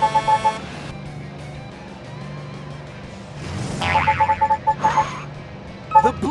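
A springy cartoon boing sounds repeatedly in the Blaze and the Monster Machines kids' game app, bouncing in quick rhythmic bursts over game music and engine-like effects.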